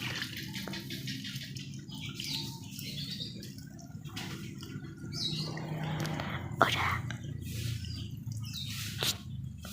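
Water poured gently from a container onto soil over freshly planted shallots gives a soft, steady splashing trickle, with faint bird chirps outdoors and someone talking quietly.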